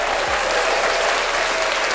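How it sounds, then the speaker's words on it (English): Steady, dense audience applause fills the whole stretch, loud and continuous with no break, like a room of people clapping together for a product launch on a health and business show. "I want to give us a round of applause for actually putting a good product out"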